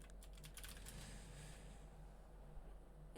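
Quiet typing on a computer keyboard, a rapid flurry of light clicks in the first half that thins to a few scattered taps, faint and close with no talking.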